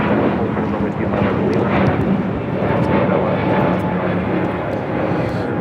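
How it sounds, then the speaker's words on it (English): A Volaris Airbus A321neo bound for Guadalajara takes off from LAX, a loud continuous engine roar and rumble filling the whole stretch, with a voice speaking over it. "1711 taking off to Guadalajara on an A321neo"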